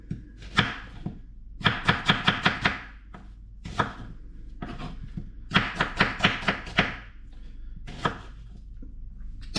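Onions being chopped on a board with a knife in a home kitchen, in two quick bursts of rapid, crisp knife strikes separated by lone taps, close and clear with no talking.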